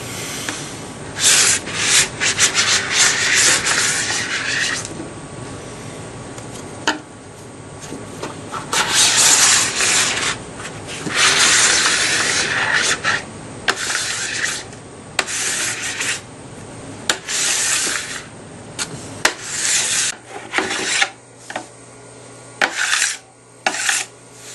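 A scraper drags wax off a snowboard base in long, loud rasping strokes, close up and repeated in bursts with brief pauses between, ending in shorter choppy passes.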